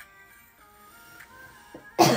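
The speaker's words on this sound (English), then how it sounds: "I keep coughing." A single loud, harsh cough bursts out at the very end after a quiet stretch with faint tonal background music.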